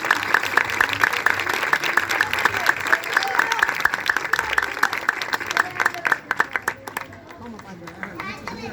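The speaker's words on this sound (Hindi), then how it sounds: "भरपूर तालियों में" A congregation applauds to welcome its local elder pastor, a loud, close burst of clapping that thins into a few scattered claps near the end, with chatter and a voice mixed in.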